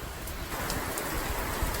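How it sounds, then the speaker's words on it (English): Steady rain falls outdoors in a continuous, fairly even hiss with scattered drop impacts, heard alone with no voices. "Well, it's definitely raining now."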